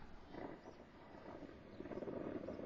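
An airplane passes overhead in the background, a steady, faint broadband drone that holds low and continuous throughout with no speech.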